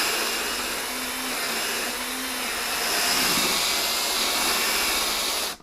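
A drill running at its highest speed spins a brush against a car's floor carpet, giving a loud, steady whirring hiss that swells slightly partway through and then cuts off abruptly at the end.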